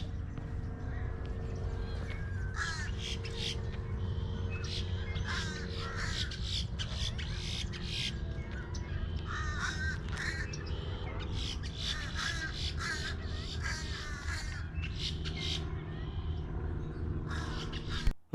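Birds perched on a boat at a lakefront park in Kissimmee give repeated harsh, crow-like cawing screams. The calls come in steady bursts over a constant outdoor background.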